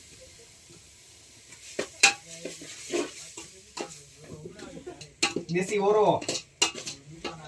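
Vegetables stirred in a hot pan at an outdoor farm cookout, with spoon scrapes, clanks against the metal and a light sizzle in irregular bursts, and brief speech in between.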